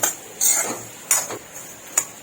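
Dry roasted peanuts stirred in a pan, giving a few separate metallic scrapes and clinks of spoon against pan at irregular intervals, moderately close.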